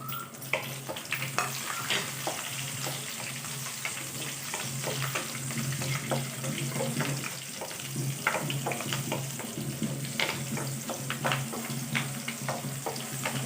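Cumin, whole spices and green chillies sizzle and crackle steadily in a hot pan for a masala curry, a close, continuous frying hiss with scattered sharp pops and spits, no voices.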